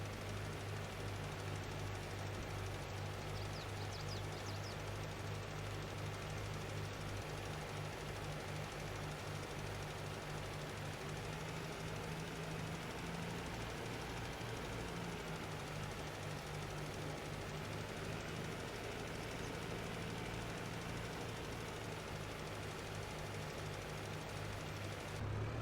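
A compact tractor engine in Farming Simulator 22 drones steadily while spreading fertilizer, a constant loud low hum with a slight rhythmic pulse and no talking.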